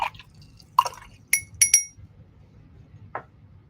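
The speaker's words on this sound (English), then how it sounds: "I'll rinse my brush" A paintbrush rinsed in a glass of water, with a few light clinks of the brush against the glass and soft watery drips, close by and otherwise quiet.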